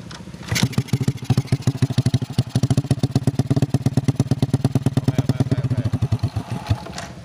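A Honda Supra X100 motorcycle with a modified exhaust revs hard, giving a loud, close, rapid pulsing exhaust beat that rises and falls in repeated surges for several seconds.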